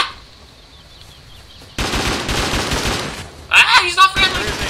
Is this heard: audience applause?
no